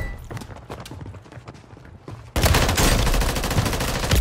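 Shotgun fire in Call of Duty on Rebirth Island: scattered shots and footsteps give way to a sudden, loud, sustained barrage of close gunfire.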